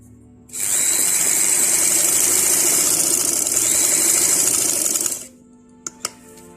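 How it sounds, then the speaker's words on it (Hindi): A sewing machine stitches the belt waistband of a shalwar, running in one steady, fast, close burst of about four and a half seconds, then stopping, with a couple of sharp clicks afterward. "यहाँ बिल्कुल कोने से इस तरीके से सिलाई लगाएंगे"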